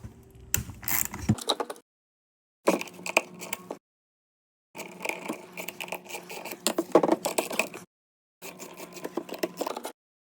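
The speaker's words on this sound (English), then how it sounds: "the first thing you want to do is loosen these nuts" Nuts being loosened on a plastic RV sewer fitting: four bursts of close, dry clicking and scraping separated by short silences.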